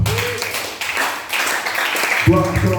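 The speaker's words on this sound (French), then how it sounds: "Donnez-moi les mains d'acclamation." A church congregation claps and cheers together during a French-language worship service, a dense wash of hands and voices filling the room, with a louder burst of voices near the end.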